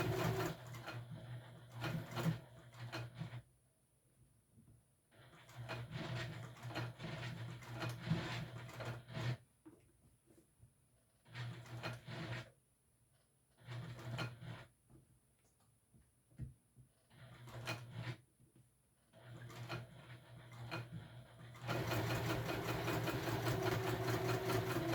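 Sewing machine top stitching a fabric wristlet in several separate bursts of rapid mechanical whirring, each lasting a few seconds with quiet pauses between, ending in a longer steady run.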